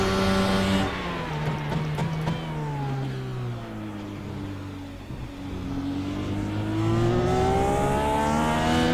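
An IndyCar race car engine in the iRacing video game, racing at Circuit Gilles Villeneuve, whines steadily at high revs, dipping briefly mid-clip before climbing again, loud and continuous with no talk.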